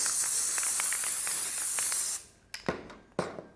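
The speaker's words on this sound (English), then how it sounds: "And I'm just going to spray that on here." A spray can of permanent adhesive hisses in one long steady burst for about two seconds, then stops, followed by a few short clicks and taps close by.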